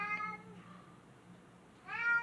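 A pet cat meows twice indoors, a short meow at the start and another at the end, close and fairly soft over a quiet room.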